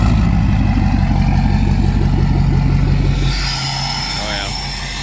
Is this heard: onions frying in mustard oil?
no